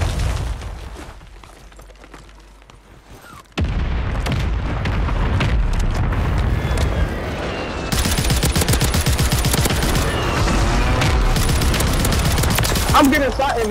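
Rapid SMG gunfire from a Call of Duty-style battle royale on Rebirth Island, dense bursts of shots and booms that start abruptly and run continuously, loud and close, with a voice talking faintly underneath.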